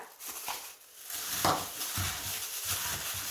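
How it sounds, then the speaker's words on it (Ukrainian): Chicken wings are stirred by hand in a bowl of soy sauce and garlic marinade, giving soft wet squelches and light clicks of utensil against the dish in an uneven rhythm, close and fairly quiet with no talking. "Перемішую довго, щоб кожне крильце було покрито маринадом"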